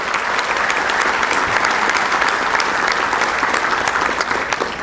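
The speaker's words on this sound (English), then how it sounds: "And Larry, you and your team deserve a round of applause" Loud, dense applause from a breakfast crowd at a chamber of commerce event, many hands clapping steadily for several seconds with no talk over it.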